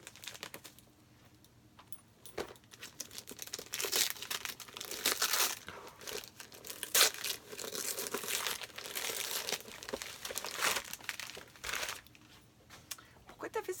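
A paper envelope holding a gift is torn and crinkled open up close, with sustained rustling and ripping that swells in the middle, while someone talks over part of it.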